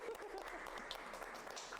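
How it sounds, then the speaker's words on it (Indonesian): An audience in a travel-agency podcast studio claps continuously, a dense, even patter of applause that holds steady from start to end. "Tepuk tangan dulu buat Jogja Travel Detik."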